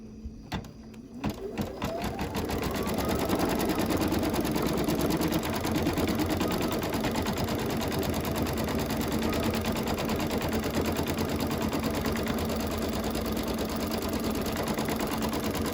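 An embroidery machine runs steadily after a brief start, stitching a placement line for the next fabric piece of a Halloween quilt block, a loud, continuous mechanical whir with a rapid needle rhythm.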